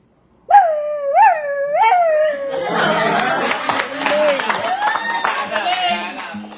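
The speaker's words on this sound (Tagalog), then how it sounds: "Paano yung tahol ng gutom?" A dog lets out a few rising yelps that turn into a long, wavering howl, loud and close.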